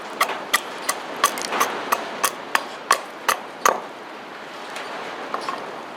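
A wooden stick is chopped with a blade to square off its back, giving about ten sharp, evenly spaced knocks at close range, then quieter taps at the end; no one speaks.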